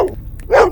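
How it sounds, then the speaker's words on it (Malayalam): Dog barking, two short close barks separated by a brief pause, loud and alone. "എന്തിനാടാ കുരയ്ക്കുന്നേ?"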